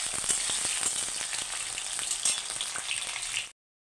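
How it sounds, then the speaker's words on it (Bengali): Potatoes sizzle in hot mustard oil in a wok, a bright continuous frying hiss with small crackles and occasional stirring, close and alone without speech. "আলুগুলো অল্প লাল লাল ভাজা হবে।"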